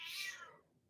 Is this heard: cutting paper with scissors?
no